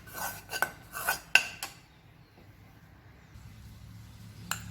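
Roasted gram flour for besan laddu being mixed in a pan, with several scraping and clinking utensil strokes in the first two seconds, then faint rustling mixing and one last small clink.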